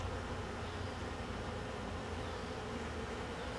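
Honey bees swarm around a weak hive that is being robbed, giving a dense, steady buzzing that holds constant and fairly loud throughout with no voices.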